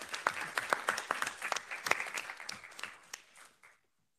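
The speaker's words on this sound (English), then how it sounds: "And applause ourselves and everybody." Scattered clapping from a small group at the close of a webinar on independent living and inclusion, a few seconds of uneven, moderately quiet hand claps that thin out and stop.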